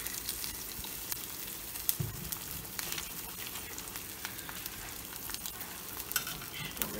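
Eggs frying in a new cast iron skillet, a steady dense sizzle with faint crackles and spatters running continuously at close range, no talking.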